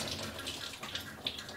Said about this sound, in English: And then the water just comes out and it's very simple.